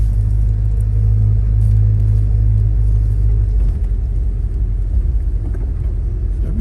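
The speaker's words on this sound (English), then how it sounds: "let's go and take this thing for a cruise." A 1972 Chevrolet Chevelle's engine rumbles steadily from inside the car on a drive, a loud, continuous low drone that shifts slightly in pitch partway through.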